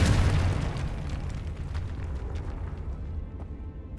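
A Confringo fire spell detonates in the Hogwarts Legacy video game as a loud, close burst at the start that fades into a rumbling tail over a few seconds.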